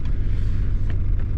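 A neglected Nissan Skyline R31 TI idles steadily right after starting, a close, continuous low engine rumble with no talk over it.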